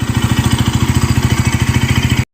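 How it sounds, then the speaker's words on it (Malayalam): A new KTM Duke 200 motorcycle engine runs steadily at idle, its close, loud, even pulsing beat filling the whole stretch with no talk over it. "എന്നാലും ഒരുപാട് എൻജിൻ നല്ലോണം സ്മൂത്ത് ആൻഡ് റിഫൈൻഡ് ആയിട്ടുണ്ട്."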